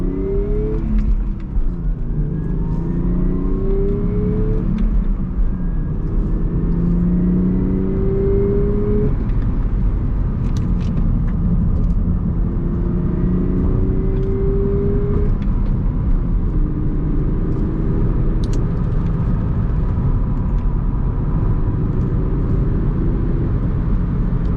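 A car accelerates hard on an empty street during street racing, its engine rising through several revving pitch sweeps with gear changes, loud and close throughout with no talk.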